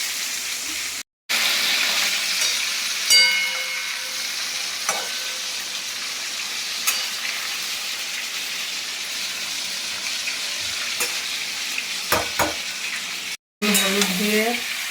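Pomfret fish fries in a pan, a steady close hiss of oil with light crackles and a few clinks, briefly cut off twice, with no voices over the sizzle.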